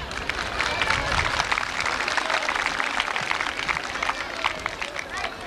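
Loud, sustained applause and cheering from a large crowd at a municipal circumcision celebration and festivity in Vezirhan, Turkey, a dense, steady roar of clapping with crowd babble throughout.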